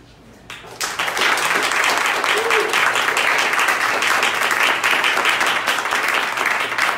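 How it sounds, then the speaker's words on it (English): A large audience breaks into sustained applause that swells within the first second and holds steady, dense and loud, with no talking over it. "while your hands are clapping, you might as well just keep them going"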